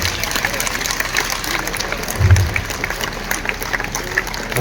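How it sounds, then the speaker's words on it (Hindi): A crowd stands and applauds at the inauguration of a political office in Hisar, a dense sustained roar of clapping with a louder swell midway and crowd noise mixed in. "एक बार मनोहर लाल जी का, नायक सिंह सैनी का और पूरी भारतीय जनता पार्टी का खड़े होकर तालियां बजा के स्वागत, पूरी भीड़ खड़ी हो जाए"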